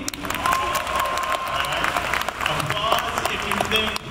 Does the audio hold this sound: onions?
no